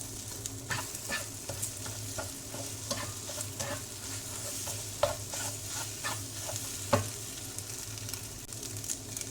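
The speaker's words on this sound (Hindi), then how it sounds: "ये जब आप इसे तोड़ रहे हैं ना तो ये बहुत अच्छे तरीके से टुकड़े हो रहा है" Cooked egg for chicken egg fried rice is chopped and broken apart with a spatula in a hot pan, giving steady sizzling frying noise with repeated sharp scraping and tapping strokes, close and without talk.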